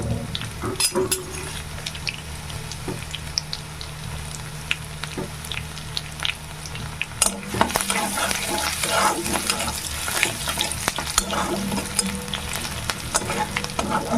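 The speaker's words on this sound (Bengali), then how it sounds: "রসুনটাকে একটু হালকা ভেজে দেবো" Garlic frying in oil in a pan as the first step for red amaranth greens, with a steady close sizzle and occasional stirring clatter that grows louder and busier partway through.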